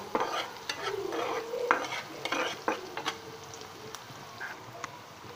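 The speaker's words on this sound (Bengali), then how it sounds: "দিয়ে মশলাটাকে কষিয়ে নেব।" Bengali masala with turmeric powder being sautéed in a pan for a lentil and bitter gourd dish: a soft sizzle under repeated scraping strokes and clinks of a spatula, close and moderately loud.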